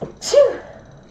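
A single loud, close sneeze with a sharp burst followed by a brief fading breath.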